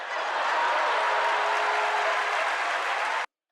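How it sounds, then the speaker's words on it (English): A podcast audience claps in steady, dense applause for about three seconds before it stops abruptly. "Let's give him some claps."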